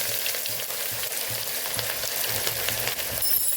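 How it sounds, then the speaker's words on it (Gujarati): Onions sizzle steadily in hot oil after cumin seeds have crackled, with occasional scraping stirs and no talking, while cooking a Kathiyawadi pea and potato curry. "જીરું ફૂટી જાય એટલે આપણે ડુંગળી ઉમેરી દેવાની છે।"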